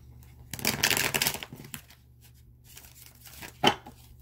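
Tarot cards being shuffled nearby in a brisk burst of riffling, then lighter scattered card flicks and a sharp final tap, in a quiet room.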